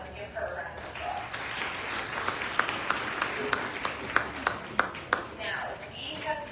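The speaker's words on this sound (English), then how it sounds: "Let's give her a round of applause" Audience applause at a women's fashion show in a shopping mall, a dense wash of clapping from a moderate distance with sharper individual claps punctuating it, fairly steady throughout.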